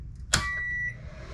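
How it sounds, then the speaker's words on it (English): An RV's appliances give a single sharp electronic beep as power returns after a hot, tripping breaker is replaced, followed by a faint steady tone over a low electrical hum. "things beeped and turned back on here"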